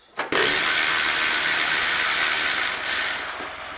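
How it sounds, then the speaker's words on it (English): A ratchet or power tool works loose the bolts on a car's brake master cylinder, giving a loud, continuous close-up whirring buzz that starts abruptly and runs steadily to the end. "we're just going to unbolt the master cylinder"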